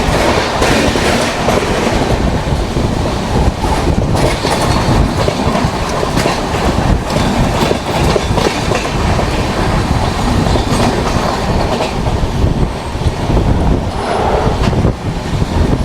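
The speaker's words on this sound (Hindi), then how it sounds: "अभी हम लोग स्किप कर रहे हैं अंधेरी रेलवे स्टेशन" Loud onboard rumble of the Mumbai Indore Duronto Express rolling through Andheri station at night, with steady clickety-clack of wheels over rail joints and brief squeals, continuous throughout with no talk.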